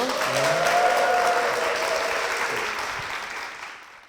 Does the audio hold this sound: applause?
yes